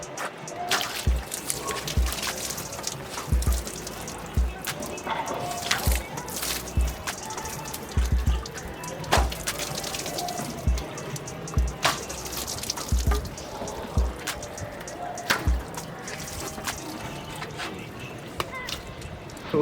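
Water is splashed by hand onto dusty solar panels to rinse them, giving irregular sloshing, dribbling and dripping sounds at close range, with some speech partly over it.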